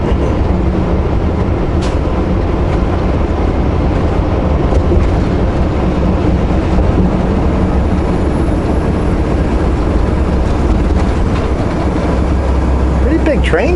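Loud, steady rumble of a train rolling over a bridge, a continuous heavy roar with faint clatter throughout.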